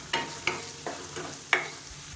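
Tomatoes and curry leaves sautéing in a kadai for egg curry, with a quiet sizzle under about five sharp scrapes and clacks of a spatula stirring the pan.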